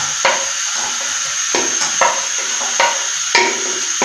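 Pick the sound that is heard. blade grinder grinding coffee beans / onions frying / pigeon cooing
onions frying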